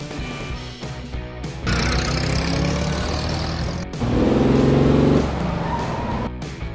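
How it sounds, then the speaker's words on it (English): Mail truck engine humming at moderate volume, swelling into a stronger rev in the middle and then settling back to a steady idle-like drone. "Mail truck."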